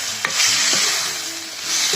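Tomato pieces fry in a pan, a continuous bright sizzle with a few soft scraping stirs of a utensil, close and steady with no voices.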